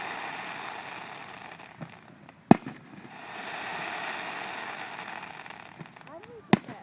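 Fireworks go off at a Fourth of July show, two sharp, loud cracks standing out against a softer, sustained crackle and fizz, with faint murmuring of people nearby.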